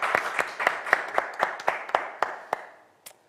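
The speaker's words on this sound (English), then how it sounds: "give them a round of applause" A handful of people clap in a sparse, even rhythm of about a dozen distinct claps, close and moderately loud, slowing and fading out after a final lone clap.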